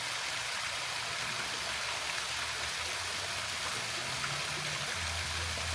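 Water flowing steadily over a spillway or low crossing, a continuous broad rushing wash with no breaks, fairly distant and even in level throughout.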